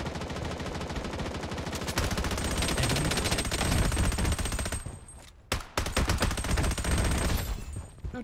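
Dense, rapid automatic gunfire in the Project Bloodstrike mobile shooter game, loud and nearly continuous, with a brief pause before the bursts resume.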